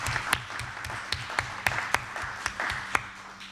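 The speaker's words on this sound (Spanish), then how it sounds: "a la cual le pido un gran aplauso." Audience applause at an academic event on communication and audiovisual culture, scattered clapping with distinct individual claps standing out over a steady low hum, moderately loud.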